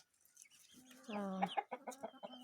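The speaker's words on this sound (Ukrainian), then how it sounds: "Старі кури, молоді кури." Hens clucking and calling close by, a few short broken clucks and one longer drawn-out call, with faint rustling around them.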